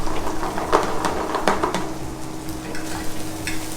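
Rice stirred and scraped around a hot pan in a restaurant kitchen in Cali, Colombia, with salty cheese and sausage in the dish; steady close scraping strokes over a soft continuous sizzle, no voices.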